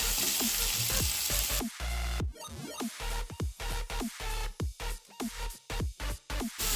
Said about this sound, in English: So fry up the onions for maybe like 3 to 4 minutes in simmer